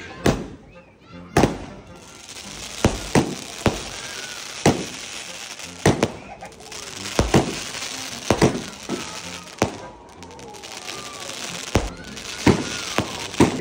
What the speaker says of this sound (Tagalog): O kontrahin natin ngayon ng fireworks sa taas